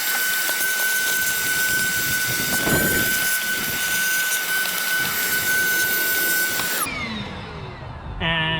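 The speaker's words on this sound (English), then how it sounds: "Listen to a vacuum for the next 30 seconds." A vacuum cleaner runs steadily and loudly close by with a constant whining drone, then switches off and winds down near the end.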